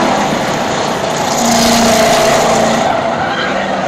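Race cars running nose to tail out of a turn on an oval track, a loud continuous engine roar with tire squeal swelling briefly in the middle.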